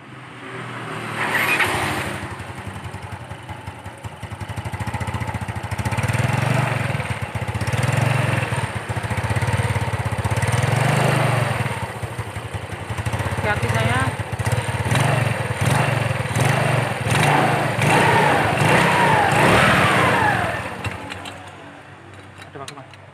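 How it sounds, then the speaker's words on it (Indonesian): A Yamaha Mio scooter with a rattling CVT is revved repeatedly, the engine drone rising and falling with gritty mechanical clatter. It sounds close and steady, with brief quieter moments at the start and end. "kalau digas begini bunyi tarak-tarak-tarak gitu ya"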